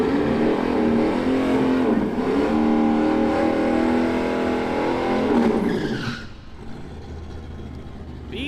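Street race cars, including a Camaro and an old-school Mustang, roar hard off the line at a street drag event, engines loud and close with a brief tire chirp, before the noise drops away after about six seconds.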